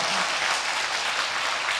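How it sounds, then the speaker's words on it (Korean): An audience at a church worship service applauds, a steady dense wash of clapping that fills the short stretch evenly, with no voices over it. "너무 뜨거운 박수와 또 사랑으로 맞아주셔서 정말 감사드리고요"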